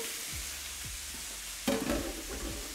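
Chicken pieces browning in a pan for Basque chicken sizzle quietly and evenly, with a brief louder clatter of movement partway through.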